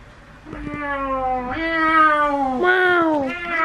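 Several people imitate cat meows in drawn-out, wavering calls, three overlapping rising-and-falling meows in a row, loud and close, with a few voices in the background.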